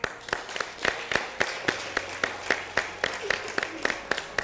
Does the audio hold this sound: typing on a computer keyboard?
no